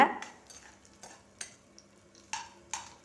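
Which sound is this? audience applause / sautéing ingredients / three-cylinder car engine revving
sautéing ingredients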